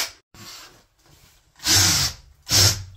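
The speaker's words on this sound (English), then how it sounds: "So now we know where to drill our hole." A power drill whirring in short bursts into a bathroom wall, two loud close-up pushes near the end after quieter, rougher grinding at the start.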